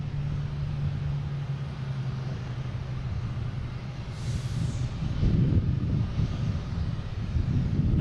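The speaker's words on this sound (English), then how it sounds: "Next taking off is the A220 JetBlue heading to Nashville" A JetBlue Airbus A220 airliner taking off at Boston Logan International Airport, a steady low engine roar with some wind noise that grows louder and fuller partway through.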